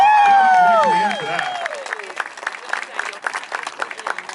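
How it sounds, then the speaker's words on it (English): Applause breaks out from a crowd at the opening ceremony of a softball stadium, rising as a voice trails off and continuing as loose scattered clapping to the end. "we just got to give a round of applause"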